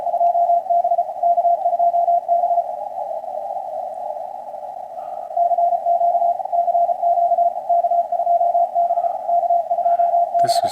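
An amateur radio RTTY CQ call comes through as a steady two-tone warble, continuous and fairly loud with only brief dips, and a faint steady hum beneath it.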